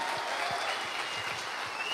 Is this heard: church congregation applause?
yes